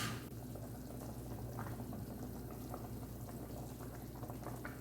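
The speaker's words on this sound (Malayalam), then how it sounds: "ഒരു പാൻ സ്റ്റവിൽ വെച്ച് ചിക്കൻ നന്നായി വേവിക്കുക." Chicken cooks in a pan on a stove, giving off a faint, steady bubbling and simmering hiss with no breaks.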